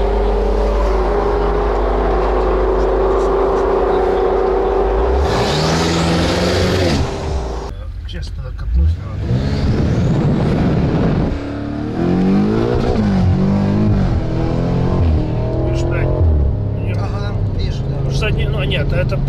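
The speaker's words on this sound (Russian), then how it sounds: "Сейчас чуть резину прогреем." A drag racing car warms its tires with wheelspin, its engine revving hard in rising and falling surges with tire roar. Loud and close, with people talking over it.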